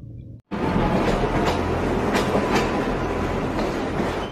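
A train runs steadily close by in a film scene at a station where a naval officer has just stepped off, with rhythmic clickety-clack of wheels over rail joints following a brief quiet start.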